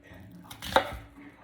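Onions being chopped in a Pampered Chef manual food processor: one sharp, close chopping clack with a short rattle, set against quiet kitchen background.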